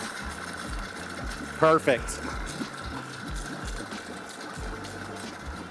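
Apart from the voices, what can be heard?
Mercury outboard engine cranked and running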